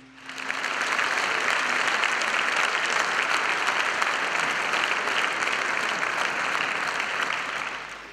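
Concert crowd claps for a performer, a full steady round of applause from many hands that swells quickly and tapers off near the end.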